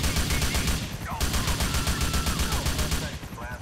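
Gunfire in the video game GTA IV, a continuous loud burst of rapid automatic shots rattling without pause through the whole stretch, with no talk over it.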